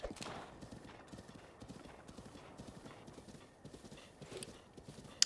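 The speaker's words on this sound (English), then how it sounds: "Go, horse." Hooves of a galloping horse in The Legend of Zelda: Breath of the Wild beat in a quick, steady clip-clop rhythm, with a faint whinny early on and quiet game ambience beneath.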